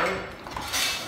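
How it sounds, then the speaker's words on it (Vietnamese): A frying pan is lifted out in a kitchen, giving a steady clatter of metal cookware and light clinks that runs through the whole moment at close range, with no talking. "Đây, tôi lấy chảo cho ông."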